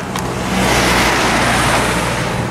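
A single car passes close by on a village road near the Clwydian hills, its tyre and engine noise swelling into a broad rushing whoosh that fills the short moment.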